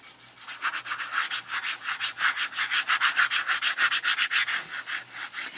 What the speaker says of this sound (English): you just want to blob the paint on and kind of rub it in